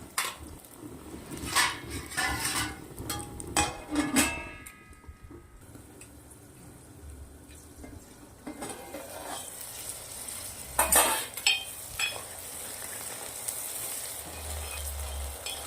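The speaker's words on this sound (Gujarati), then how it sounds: "વટાણા પણ તેલના અંદર સરસ સંતળાઈ જવા દેવાના છે." Green peas sautéing in hot oil for a matar aloo curry, giving a steady crackling sizzle, with several loud scrapes and clinks of a spoon stirring against the pan.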